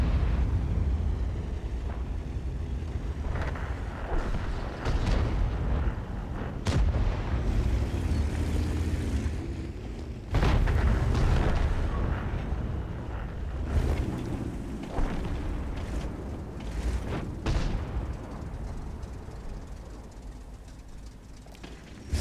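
Heavy tank cannon blasts and explosions in World of Tanks boom out at intervals over a constant low rumble of engine and battle noise, loud and close, with no talking.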